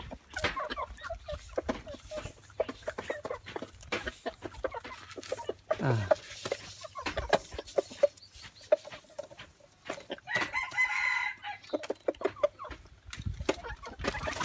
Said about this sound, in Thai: มันจะไก่แจ้นะ